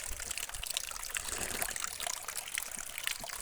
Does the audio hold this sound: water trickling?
yes